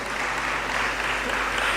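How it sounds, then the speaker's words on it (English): Applause from a seated audience at the close of a university launch event, a brief dense wash of clapping that stays even throughout. "I also deserve a round of applause"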